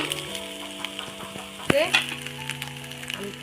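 Chopped onion with crushed green chili, ginger and garlic paste fries in a pan, giving a steady close sizzle with scraping stirs and a sharper clatter partway through, with a soft background hum and no talking.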